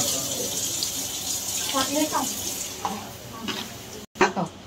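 Water poured into a vegetable curry in a pan, a steady close splashing and hissing wash of liquid with a few clinks and stirring knocks, continuing throughout.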